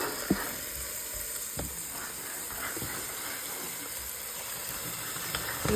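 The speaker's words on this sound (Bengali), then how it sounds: "টমেটো, আদা, রসুন দিয়ে ভালো করে কষিয়ে নিয়ে ম্যারিনেট করা মাংসটা দিয়ে দিলাম" Marinated mutton sizzling in a pan after going in on top of cooked-down tomato, ginger and garlic, a steady moderate hiss of frying with a few soft knocks of a spoon, heard close with no voices.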